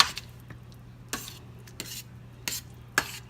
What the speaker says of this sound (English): we're going to stir this into the sauce